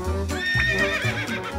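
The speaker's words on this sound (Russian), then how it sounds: "Это лошадь. Лошади сказали." A farm horse lets out a close, wavering whinny with a few quick pulses, heard alone for just over a second and a half.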